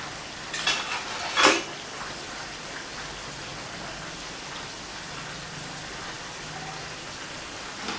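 KFC-style coated chicken fries in hot oil with a constant spattering crackle, broken early by a couple of sharp clatters and scrapes as the pieces are turned over.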